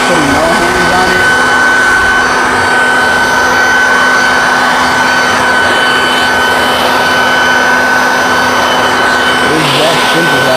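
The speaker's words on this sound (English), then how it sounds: "So blow off the tires." An air blower drying a ceramic-coated car and blasting water off the tires during a maintenance wash, a loud, steady roaring rush of air that runs continuously throughout.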